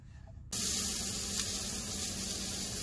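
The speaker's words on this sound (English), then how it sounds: "I'm just frying them in a little bit of butter right now" Potatoes hit hot butter in a skillet on a Camp Chef stove and burst into a loud, steady sizzle that continues close and unbroken, with no talking.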